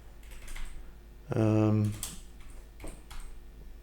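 Typing on a computer keyboard while composing a short message in a feedback tool, with a voice speaking over the quiet key clicks and a brief tonal chime partway through.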